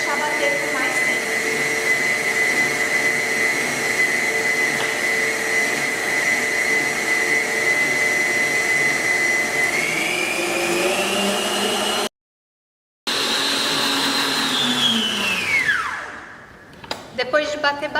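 Electric mixer beating a hot orange sabayon under a dish towel, a steady loud whine that holds for several seconds, shifts pitch, cuts out briefly, then winds down as the motor slows and stops.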